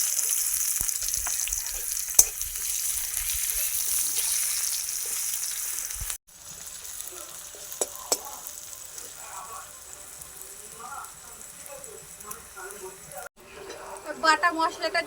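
Onions sizzling in hot oil while an egg curry is cooked, a steady bright frying hiss that runs loud, drops after a cut and continues softer with occasional stirring clatter.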